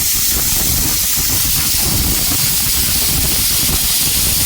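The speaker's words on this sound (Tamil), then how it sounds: "இப்ப நல்லா குக்கர் விசில் போயிடுச்சு." A loud, steady hiss of escaping steam from a pressure cooker whistle, cooking chicken gravy, runs unbroken and close, with no talking over it.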